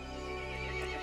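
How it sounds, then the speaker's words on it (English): A horse in the video game Resident Evil Village lets out a loud, drawn-out whinny with a harsh, harmonic-rich tone, filling the whole short moment without any talk. "The horse grew angry and summoned the other monsters."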